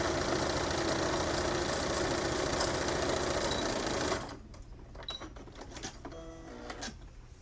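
Sewing machine stitching the curved line of a face mask pocket, a rapid steady mechanical chatter for about four seconds, then stopping and leaving faint clicks and handling noise, close up.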